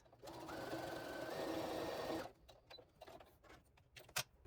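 A sewing machine stitches down a strip of quilt fabric in one steady, close whirring run of about two seconds, then stops, leaving faint handling noises.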